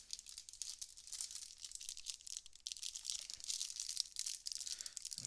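Cellophane wrapper is torn and crinkled off a 2020 Panini Absolute football card box, giving close, continuous crackling and tearing rustles with no talk.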